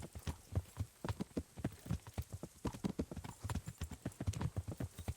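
Horse hooves clip-clop in a steady, even rhythm in the Kingdom Come: Deliverance video game, close and clear with a faint bed of ambience and no talk over them.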